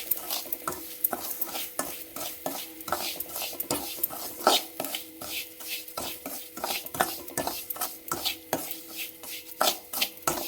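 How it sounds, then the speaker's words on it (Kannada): Semolina is stirred and roasted in ghee in a pan over a low flame for kesari bath: rapid, rhythmic scraping and clinking of a spoon against the pan over a soft sizzle. "ಈ ತುಪ್ಪಕ್ಕೆ ರವೆ ಹಾಕ್ಕೊಳ್ಳೋಣ, ಯಾಕೆಂದರೆ ಹುರಿದಿದ್ದೆ, ಇನ್ನೊಂದು ಸತಿ ಹುರ್ಕೊಳ್ಳೋಣ ಸ್ವಲ್ಪ ಲೈಟಾಗಿ."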